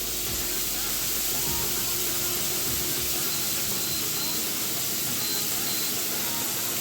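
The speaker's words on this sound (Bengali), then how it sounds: "এবার পুরো বিটটা আমি এটার মধ্যে দিয়ে দিলাম তেলটার মধ্যে তেলটা আমি আগে গরম বসিয়ে দিয়েছি" Grated beetroot, juice and all, hitting oil already heated with black cumin seeds, giving a steady broadband hiss and sizzle that runs continuously and fairly loud throughout, with no speech over it.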